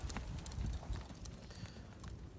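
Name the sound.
horse hooves while being led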